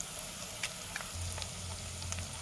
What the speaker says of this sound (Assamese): মছলাখিনি ভালদৰে মিক্স কৰি অকণমান সময় ভাজি ল'লোঁ